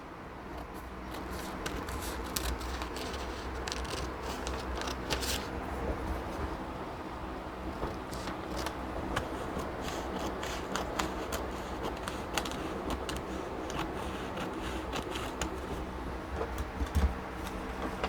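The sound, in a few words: scissors cutting out a paper sewing pattern armhole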